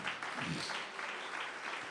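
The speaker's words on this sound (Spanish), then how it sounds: "Fuerte ese aplauso al Señor." Church congregation applauding during a Spanish-language revival sermon, a dense, steady wash of many hands clapping at once that fills the whole clip, fairly loud and close.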